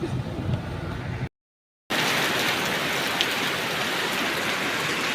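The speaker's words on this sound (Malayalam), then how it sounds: "മഴ" Steady rain falls at Sholayar Dam, a dense continuous hiss of drops on surfaces, briefly cut off for a moment before resuming just as strongly.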